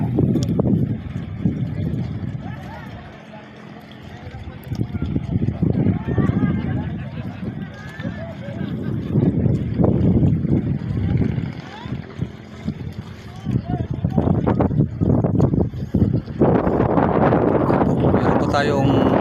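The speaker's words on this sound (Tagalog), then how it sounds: "talagang malakas na po ang amihan ngayon" Strong northeast monsoon wind at sea during island hopping off Coron, Palawan, roaring steadily across the microphone along with boat and water noise, with people talking over it throughout.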